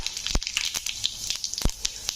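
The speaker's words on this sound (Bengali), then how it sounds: "আর একটু জিরে দিয়ে দিলাম" Cumin seeds and whole garam masala in hot oil in a kadai, popping in sharp close crackles and spits over a thin sizzle, with no talk.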